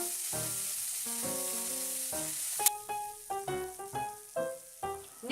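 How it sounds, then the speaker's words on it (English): Chopped onion and ginger garlic paste sautéing in oil with whole cumin seeds in a pan, a steady sizzle under bright musical notes that continue throughout. "Saute a little."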